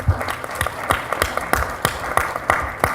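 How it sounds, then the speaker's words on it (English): A conference audience at the University of Nebraska, Omaha claps for a speaker, a moderate run of hand claps with distinct peaks, fairly close and without talk over it. "That's the first time I've gotten applause in a while"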